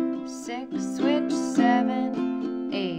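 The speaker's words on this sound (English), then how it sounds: "I'm gonna play a standard strum pattern" A ukulele strums a standard strum pattern in a circle chord progression from a Wabash play-along. Bright down and up strokes repeat in a steady rhythm and let the chords ring, fairly soft, with no voice.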